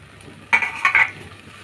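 A spoon stirs a pot of lentil curry with ginger paste and a splash of water added, giving a brief burst of wet scraping strokes lasting under a second, close and alone.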